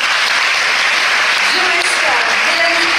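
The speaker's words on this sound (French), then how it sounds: "On peut applaudir." Crowd in a hall at a TV fiction festival ceremony applauding, a loud continuous wash of clapping while a voice speaks faintly underneath.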